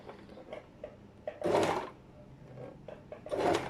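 A sewing machine stitches fabric binding at a 0.5 cm seam, running in two short, soft bursts with a faint hum and light clicks between them in a quiet room.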